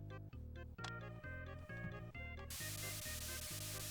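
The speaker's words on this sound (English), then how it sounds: "And then that's my spray tool." Mario Paint's spray tool on a game console hisses as a bright burst of static noise, coming in over the game's plodding, rhythmic background music and taking over the second half without letup.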